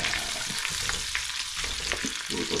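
Shrimp fry in a hot pan for pancit canton, a steady, loud, close sizzle with occasional stirring scrapes and no voices.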